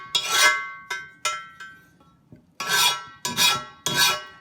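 A hand file rasps across the edge of a Lodge 12-inch cast iron skillet in about seven firm, close strokes, each a bright scraping burst with short pauses between, and no talking.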